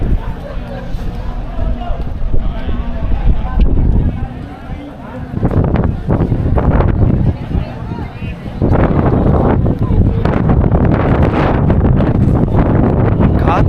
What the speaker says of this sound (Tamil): காற்று எந்த அளவுக்கு அடிக்குதுன்னு பாருங்கள்